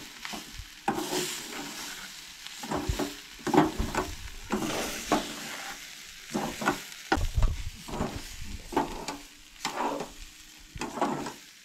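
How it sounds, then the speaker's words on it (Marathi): Masala being sautéed with soybeans in a pan, irregular scraping stirs over a soft sizzle, close and steady with no talking. "आता मसाला ॲड केल्या उपरांत परत बरी परतून घेवंक जाय, म्हणजे मसाला सगळ्याक लागूंक जाय."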